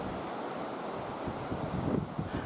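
Ocean surf over two meters high rolls in off southern Papua with gusting wind, a steady broadband roar with a swelling wave near the end and wind buffeting the microphone.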